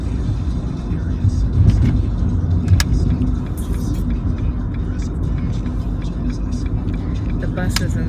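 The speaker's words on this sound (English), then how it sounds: "Why is there a lot of cars out on the road right now?" Steady road traffic from cars driving along a busy road with buses nearby, a constant engine rumble and tyre hum with occasional louder passes, close and continuous.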